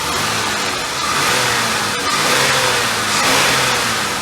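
Buick LeSabre engine revs hard under full throttle, a loud, sustained mid-pitched roar that swells and holds from close by, with no talking.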